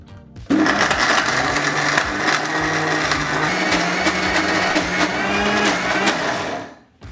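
A kitchen mixer grinder blends tamarind, water and spices into a coarse village-style godu khara paste. Its motor whirs loud and steady for about six seconds, then winds down.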